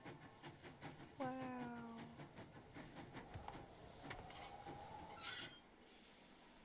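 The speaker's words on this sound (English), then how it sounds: "Sounds like the train's leaving." A train in the game Nancy Drew: Last Train to Blue Moon Canyon pulls away with a rising whistle, clanking rhythm and hissing steam, moderately distant, under light background noise with brief voice-like tones.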